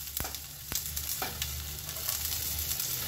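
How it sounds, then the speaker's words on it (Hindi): Mustard seeds and chopped ginger sizzling in hot oil for upma, a close, continuous crackling fry with a few sharp pops and light stirring knocks against the pan. "यहाँ ये तेल गरम हो गया है। सबसे पहले हमने इसमें सरसों डाल दिया"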